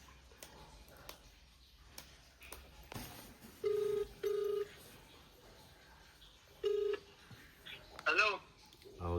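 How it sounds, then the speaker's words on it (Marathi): A mobile phone is dialed, giving several short, distinct keypad tones in a quiet room with faint background talk, followed by a brief ringing burst near the end. "आता गंमत करूया बहेशेतला फोन लावूया"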